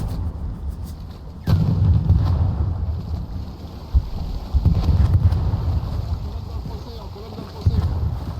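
Gunfire in the World War II video game Hell Let Loose rumbles in heavy booming bursts and scattered shots over constant wind noise, with a player talking during the fighting.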